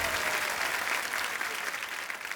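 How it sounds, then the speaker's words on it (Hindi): A crowd applauds loudly and steadily, a dense wash of clapping filling the whole moment. "जोरदार तालियां एक बार"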